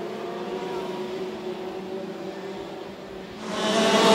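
Racing karts run on a kart track during an LAKC race, their engines forming a steady, buzzing drone that swells louder near the end as a kart closes in.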